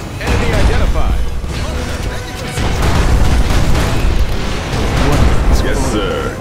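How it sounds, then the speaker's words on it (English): Particle cannon blast in C&C Generals, heavy continuous booming and crashing explosions filling the mix loudly, with voices talking through the barrage. "Releasing the particle cannon."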